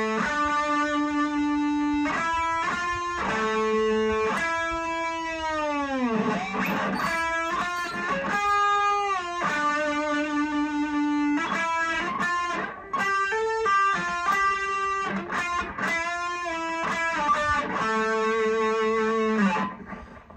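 Distorted electric guitar playing the solo part of a song, fast sustained melodic lines with bends and a long pitch dive, close and continuous with no talking.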